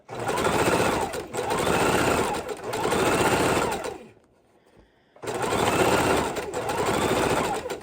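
Close, loud sewing machine stitching leftover batting pieces together, its motor whirring in long continuous runs broken by one brief stop before starting again.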